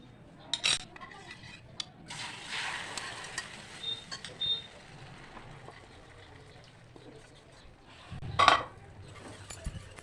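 A spoon stirs egg halwa with ghee in a kadai, giving faint scraping and a few sharp metallic clinks at irregular moments against a quiet kitchen background.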